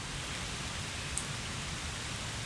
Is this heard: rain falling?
yes